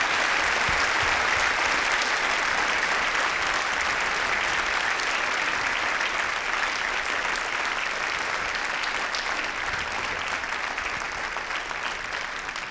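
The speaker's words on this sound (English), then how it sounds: "Can we please now have a round of applause for all of our veterans here today?" Steady, sustained applause from a school assembly audience honoring military veterans fills the room at a constant loudness throughout, with no voices over it.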